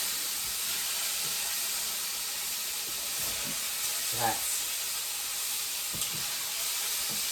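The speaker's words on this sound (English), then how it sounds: "So this is my beef browning off nicely." Beef meatballs browning in a pan, a faint steady hiss with a brief louder sputter and a couple of soft knocks, with a voice briefly heard in the background.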